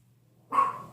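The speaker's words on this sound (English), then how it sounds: "I apologize for the dogs in the background" A single sharp dog bark rings out after a moment of quiet.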